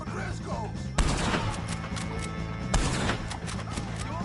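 Gunfire in a Red Dead Redemption 2 shootout with O'Driscolls, two sharp heavy shots a couple of seconds apart over a busy backdrop of action and voices.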